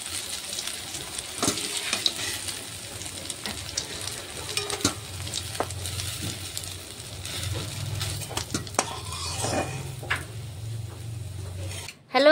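Cabbage pakoras sizzle steadily in hot oil, a continuous crackling fry close by, with occasional clinks and scrapes of stirring and a sudden louder clatter at the very end.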